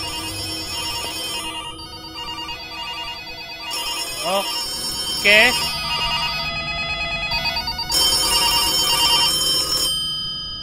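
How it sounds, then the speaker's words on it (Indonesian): A telephone rings in the horror video game ARAYA, repeated electronic ringtone bursts at moderate loudness, with a voice speaking briefly over the ringing. "Kenapa tiba-tiba teleponnya dering-dering sob?"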